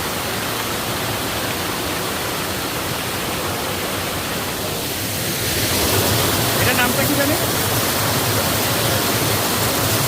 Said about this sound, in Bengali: ঝর্ণার পানি একদম উপর থেকে দেখলেন, একদম উপর থেকে বয়ে বয়ে একদম নিচে চলে যাচ্ছে।